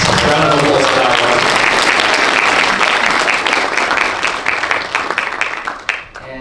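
A crowd applauds at a short film premiere, dense steady clapping holding strong for several seconds before tapering off toward the end, with some voices underneath.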